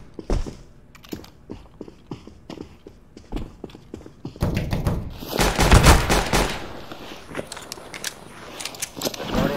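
Video game gunfire in CS GO, scattered single shots and then dense bursts of rapid fire, mixed with quick keyboard clatter close to the microphone.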